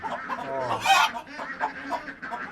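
Several egg-laying fancy exotic chickens cluck close by on a farm in Mymensingh, in short, repeated bursts, with one louder squawk in the middle, amid light background noise.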